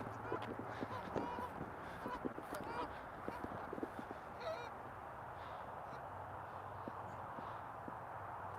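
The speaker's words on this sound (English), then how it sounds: "Oh, the geese are calling." Geese honk and call outdoors, repeated short honks scattered over a steady rumbling background, fairly distant and faint, fading to quieter background near the end.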